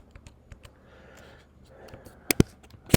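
Typing on a computer keyboard while entering an equation, scattered soft key taps followed by a few louder, sharper clicks close by, with faint breathing between.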